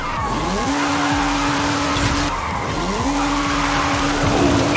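Short-wheelbase Honda Civic drifting up a hill, close and loud, with two long sustained tire squeals separated by a brief break, over a steady engine drone.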